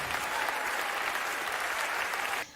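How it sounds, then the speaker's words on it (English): A comedy club audience applauds and cheers after a George Carlin stand-up punchline, a dense, sustained wash of clapping from the whole crowd that cuts off abruptly at the end. "All right, gonna stop there at the applause."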